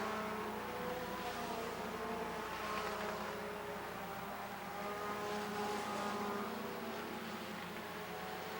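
Race cars powering out of turn 4 at Rockford Speedway, a dense continuous engine roar from several cars at once, steady and fairly distant with rising and falling waves as they pass.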